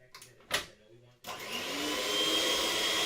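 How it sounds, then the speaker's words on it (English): An electric hand whisk beats Victoria sponge cake batter, starting abruptly after a little brief talk and then running as a steady, loud, even motor whir with a faint high whine. "so we're just going to whisk that up."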